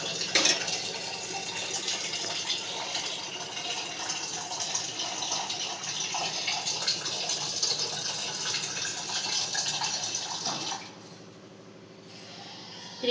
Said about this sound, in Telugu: 3 గ్లాసెస్ వాటర్ పోస్తాయి కదా, ఇంకా పోస్తాను.